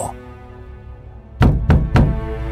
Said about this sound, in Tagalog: sunod-sunod na kumakatok sa pinto ng kwarto ko